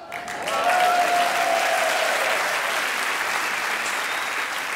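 Comedy festival audience claps in a loud, steady wash of applause that holds evenly for several seconds, with no talk over it.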